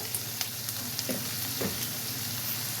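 Onions sizzle in a pan for a village-style salavai thool kuzhambu, with a steady hiss and occasional soft scrapes and clinks of stirring, all fairly close and without any voice over it.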